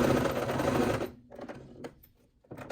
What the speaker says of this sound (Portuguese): aqui eu vou costurar, prendendo o meu zíper aqui, ó, dá um retrocesso bom e vem costurando.